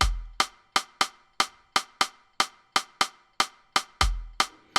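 Afrobeat kick drum played solo in a loop, sharp regular hits with deep low thump and bright attack, steady tempo, each decaying quickly, louder accented hits at the start of a phrase.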